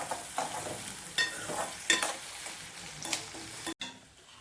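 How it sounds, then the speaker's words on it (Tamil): Chopped onions sauté in a pan for semiya upma, giving a low frying sizzle broken by scraping stirs of a spoon against the pan at irregular moments, close and moderately quiet, with no voices. "வெங்காயம் வதங்கட்டும்."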